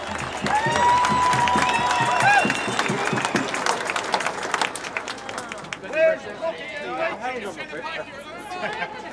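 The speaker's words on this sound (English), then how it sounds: "A big round of applause for Rob." Crowd at a rally against an emergency services levy bill breaks into loud clapping and cheering, with whistles early on, then settles into scattered claps and chatter as people talk.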